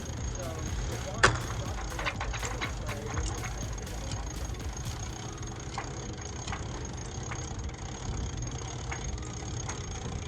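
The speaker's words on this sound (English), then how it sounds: "now you can actually use the winch handle, or you can actually do it by hand" A sailboat winch being worked with a winch handle while rigging a man-overboard harness, giving a series of light clicking ratchet ticks with one sharper clack, set against steady low background noise.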